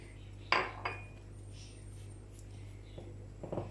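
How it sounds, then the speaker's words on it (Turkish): A utensil clinks against a dish while salt, black pepper, chili flakes and paprika are stirred into tomatoes. A few sharp, close knocks come at the start, then the mix goes quiet before a couple of light taps near the end. "Şöyle karıştırıyoruz."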